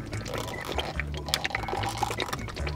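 Vinaigrette and sour cream sloshing inside a closed container being shaken, wet rhythmic splashing and gurgling at close range, steady throughout with no talking.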